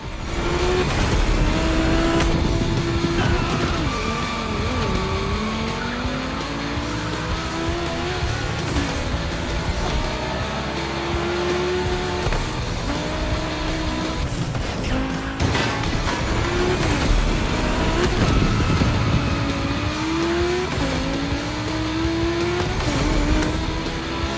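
Volkswagen race cars roar around a track in The Crew Motorfest, engines rising and falling through gear changes with tire squeals and skids, loud and continuous for the whole stretch, with no talking.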